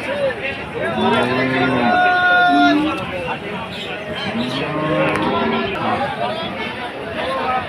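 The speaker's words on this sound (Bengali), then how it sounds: "প্রচুর গরু উঠেছে।" Cattle low repeatedly at the busy Barobazar cattle market in Jhenaidah district, with long, drawn-out moos rising and falling close by over a steady background of crowd chatter and voices.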